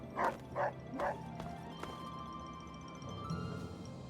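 Dogmeat, the dog companion in the video game Fallout 3, gives three quick, close barks early on, followed by a faint, steady background hum.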